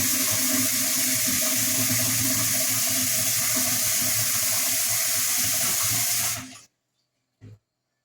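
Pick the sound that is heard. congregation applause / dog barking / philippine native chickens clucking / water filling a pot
water filling a pot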